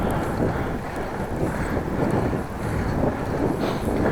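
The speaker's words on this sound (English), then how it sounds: "struggling into the wind in open areas like this" Strong wind blasts across open country at a cyclist riding from Appingedam to Groningen, a loud, constant, rumbling roar of wind buffeting the microphone with slow swells and no talking.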